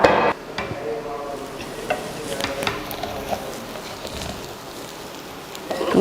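Vegetable dum biryani is gently stirred in a pot, soft scraping and shuffling of rice under a low sizzle, with a louder clatter at the start and at the end, close by and without speech.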